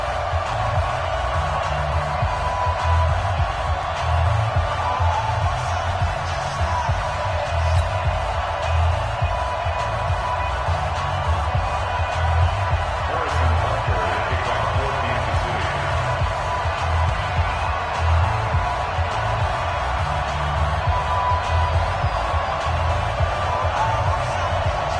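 A stadium crowd roars at an NFL game at Arrowhead in a football video game, a dense, steady wash of distant cheering and murmur lasting throughout with no clear breaks.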